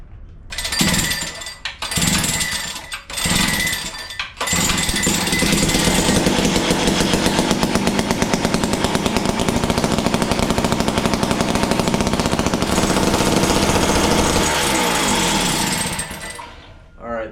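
Small two-stroke engine of an ice fishing auger, pulled over a few times before it fires and runs loud with a steady buzzing idle and throttle, then fades out near the end.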